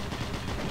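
Automatic gunfire in the game Doom 3 sounds as a short, dense, rattling burst that stays loud and continuous throughout.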